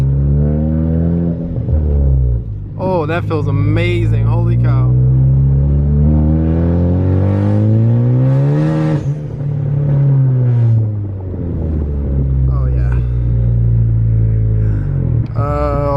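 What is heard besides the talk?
Ford car engine revving on test drive with new transmission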